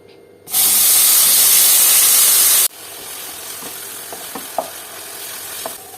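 Paneer dropped into melted butter in a hot pan bursts into a loud, bright sizzle for about two seconds, then settles into a quieter steady frying hiss with a few small pops and crackles.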